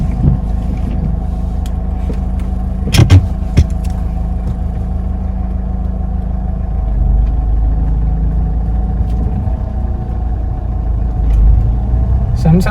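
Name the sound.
Mahindra XUV500 engine running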